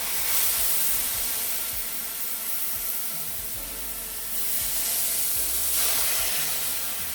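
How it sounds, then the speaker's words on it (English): Brandy, about an ounce, poured into a hot pan to deglaze it after searing peppercorn-crusted New York strip steak, making a loud, steady, broad hiss of steam and sizzle that swells and eases for several seconds. "So this is where I'm going to deglaze with my brandy."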